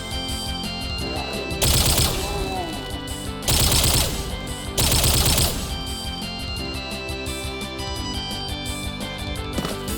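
Pistol and shotgun fire in a video game: three loud, dense bursts of shots separated by calmer stretches of game sound and music, with a final sharp report at the end.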